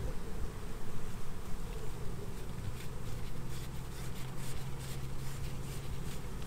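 Honey bees hum steadily around a hive during a sugar-shake mite check, a dense, continuous buzz close by with no voices over it.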